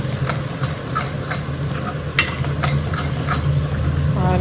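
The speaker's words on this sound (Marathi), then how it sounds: "मस्त मिक्स करून घेऊया." Masala frying in a pan for a matar paneer dish, with a continuous sizzle and a series of scraping spoon strokes, one sharper clack partway through.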